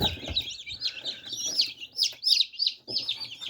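Newly hatched chicks in an incubator chirp in a busy, overlapping chorus of high, quick peeps, fairly close and soft, with no talk.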